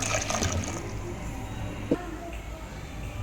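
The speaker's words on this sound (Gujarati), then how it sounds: "2 વાટકી ભરીને પાણી એડ કરીશ" Water poured from a bowl into a mix of tomato juice and rice flour for making papad, a short close trickle and splash with a faint voice in the background.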